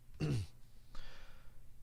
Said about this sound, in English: Forgive my cough.